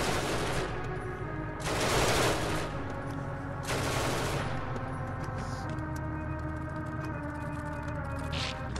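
Repeated bursts of automatic gunfire in the PS4 sci-fi shooter Genesis Alpha One, v1.02: three loud, sustained volleys roughly two seconds apart over a steady low game hum, with faint background tones afterward.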